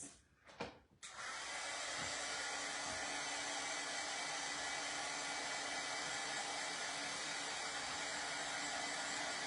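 Hair dryer blowing steadily on a craft project box, a loud constant whoosh and hum starting after a few brief clicks and bumps, with no talk.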